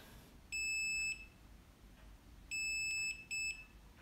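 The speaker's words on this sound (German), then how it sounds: "Drücken, bis piepst." Cordless electric pruning shears emit loud, high electronic beeps when locked: one long tone, a pause, then a long tone followed by a short one, over faint background hiss.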